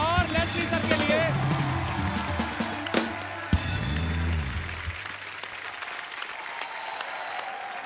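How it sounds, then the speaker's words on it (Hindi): A TV show studio audience gives guests a warm round of applause, dense clapping that rises and then fades out over several seconds, with a voice speaking over the start. "जोरदार तालियों से स्वागत कीजिए"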